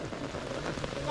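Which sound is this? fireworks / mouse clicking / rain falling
rain falling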